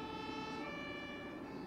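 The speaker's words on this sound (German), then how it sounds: "Wenige Kilometer weiter, Blaulicht und Sirenen." Emergency vehicle sirens with blue lights on a road, a steady tonal wail heard at a distance under a constant low rumble of traffic.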